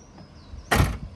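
A single van door closes with a firm, close thud and a short rattle, standing alone against a faint background hum.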